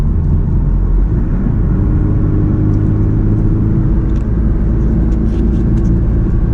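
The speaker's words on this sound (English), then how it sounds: "Alright, so select just 6th gear. You can cruise now." A car cruising in sixth gear with a loud, steady low engine drone and road rumble filling the cabin, even and continuous with no talk.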